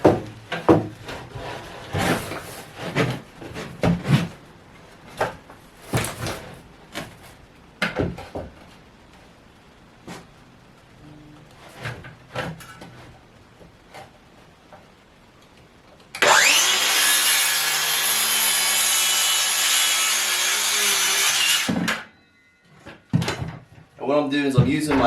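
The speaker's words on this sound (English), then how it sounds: "circular saw." A DeWalt circular saw cuts rough-cut lumber resting on a pallet, sounding as one loud sustained whine of about six seconds that spins up and then winds down. It comes after a stretch of knocking and handling noise, with speech nearby.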